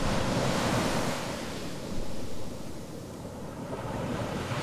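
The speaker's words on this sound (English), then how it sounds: "I'll generate a video of waves crashing on a beach at sunset with auto sound enabled." AI-generated ocean waves crashing on a beach at sunset, a continuous broad roar of surf with gentle swells in loudness, steady and full throughout with no voices.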